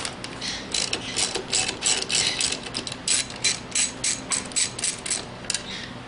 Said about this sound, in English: You use a 10 millimeter socket